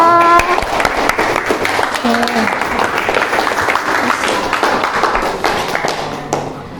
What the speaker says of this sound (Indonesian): beri aplaus untuk Mbak Dalita